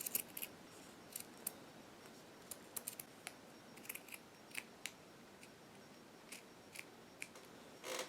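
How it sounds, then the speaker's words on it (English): Close, quiet scissors snip repeatedly through fabric for a homemade unicorn hoodie mane, a string of soft crisp cuts at an uneven pace, with no talking. "going to cut the unicorn mane"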